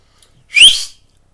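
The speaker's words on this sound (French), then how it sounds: "Le charretier, comme il était convenu, siffla de tous ses poumons pour avertir les jeunes voyageurs." A carter on a country road gives a single loud, sustained signal whistle with a rising pitch, lasting about half a second alone in quiet surroundings.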